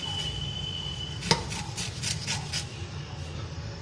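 A sharp knife chop cuts into palm fruit (nungu) through a steady background hum, followed by a few softer cutting sounds.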